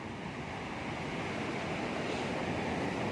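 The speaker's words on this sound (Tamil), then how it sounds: "அலை என்னை போக விடாது என்று நினைக்குது." Steady, loud roar of sea waves breaking at Pattinambakkam beach, a continuous wash of surf with wind noise and no voices.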